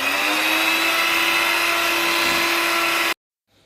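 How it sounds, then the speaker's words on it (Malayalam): An electric beater whips eggs with sugar for a pistachio cake batter, a loud, steady motor whirr running for about three seconds before cutting off abruptly. "ഇനി നമുക്കിത് നല്ല ഫ്ലഫി ആയിട്ട് പഞ്ചസാരയും കൂട്ടി ബീറ്റ് ചെയ്തെടുക്കാം."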